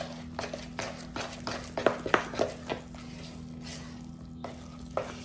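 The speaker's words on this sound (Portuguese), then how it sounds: "Primeiramente, vou misturar a mão aqui, a farinha. Misturando com a colher." Whole wheat flour being mixed with a spoon in a bowl for bread dough, giving a series of soft scraping strokes and a few sharper clinks against the bowl, close and fairly quiet with no talk.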